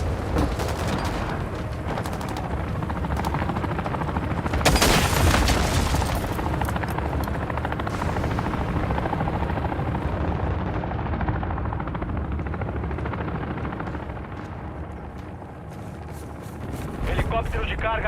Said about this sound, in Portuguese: Helicóptero de patrulha ligado entrando na AO.